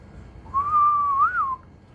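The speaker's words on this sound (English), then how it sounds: "if I was to whistle, it would be something like this" A person whistles a single sustained, gently wavering note that slides up and back down before stopping. It is clear and alone against a quiet background.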